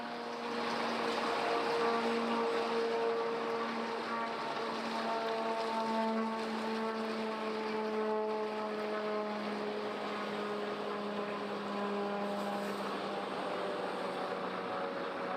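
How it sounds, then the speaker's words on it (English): Iranian Shahed drone passing directly overhead while crossing from Iran into Iraq, a steady droning engine hum with sustained harmonic tones, loud and continuous for the whole stretch with no talking. "we actually saw a Shahid drone fly directly over us from Iran into Iraq"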